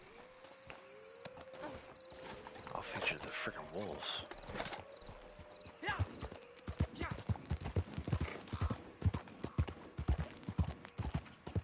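Horse hooves clip-clop in Red Dead Online, a steady run of hoofbeats that grows sharper and more rhythmic in the second half, with a horse whinny and someone talking over the gameplay.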